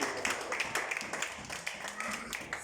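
A church congregation at a Sunday Tabernacle service applauds, a moderate patter of many hands clapping fairly evenly at a slight distance, with voices faintly mixed in.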